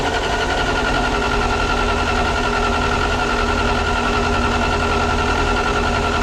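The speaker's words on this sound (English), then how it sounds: "Well, the pump is pumping fuel." On a Snow Cat, a fuel pump pumps fuel with a steady, loud mechanical hum and vibrating drone that holds constant throughout, with no talking.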